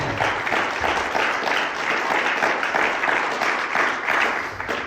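A church congregation applauds steadily for several seconds, dense and loud clapping from many people filling the room without pause.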